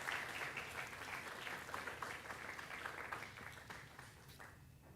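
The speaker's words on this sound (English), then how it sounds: "shall we give Mr. Vijay a round of applause?" Audience applause following a talk at a Python programming conference, sustained steady clapping from a crowd filling the room, gradually easing off toward the end.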